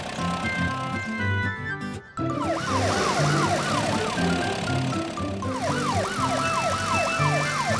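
A toy police car gives a warbling electronic siren that rises and falls in fast repeating sweeps, loud and close, over cheerful background music in a children's rescue play scene.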